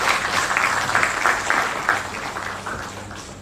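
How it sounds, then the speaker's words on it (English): An audience at an International Youth Day celebration claps for about three seconds, a close, dense round of applause that slowly fades; no talking. "Another round of applause for him, please."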